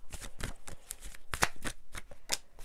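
A deck of tarot cards being shuffled, giving a run of quick papery riffles and slaps in uneven bursts, close and fairly loud with no voices.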